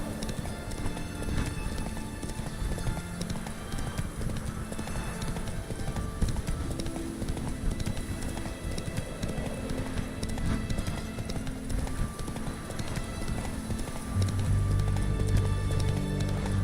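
Roach, a horse in The Witcher, gallops with rapid, continuous hoofbeats that carry on throughout, close and steady, mixed with ambient game sound and a brief whinny-like note.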